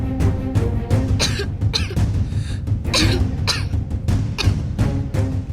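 A woman coughs again and again, a steady run of harsh, close coughs with short pauses between them, with no talk.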